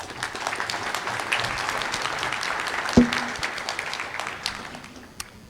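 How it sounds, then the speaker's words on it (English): Audience applause fills a conference plenary session on time and consciousness, a steady sustained clapping from a large crowd with one sharp knock partway through, fading slightly toward the end. "A round of applause, please, for Paul Davies"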